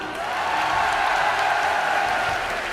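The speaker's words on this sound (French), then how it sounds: "on applaudit très fort Jessica" A crowd at the Toulouse Game Show 2012 applauds a contestant named Jessica, a dense, sustained roar of clapping with light cheering, loud and even from start to finish.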